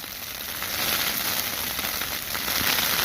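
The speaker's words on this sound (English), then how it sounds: "it's like a winter hail" Winter hail and rain falling on a Snugpak Ionosphere tent at a nature reserve camp, a dense, steady patter and hiss that swells slightly and continues without pause, with no voices.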